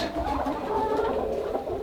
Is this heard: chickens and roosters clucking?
yes